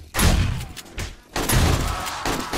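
Heavy bursts of gunfire from the zombie survival game 7 Days to Die during a Blood Moon attack: two loud, dense volleys separated by a short pause.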